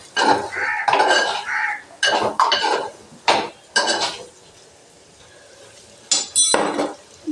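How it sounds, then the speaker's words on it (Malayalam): A metal spoon scrapes and clanks against a pan while bitter gourd is stirred and sautéed with salt. Bursts of loud clattering come in several irregular clusters, then a quiet pause, then more scraping. "പാവയ്ക്ക നല്ലോണം വയറ്റി കൊടുക്കാം."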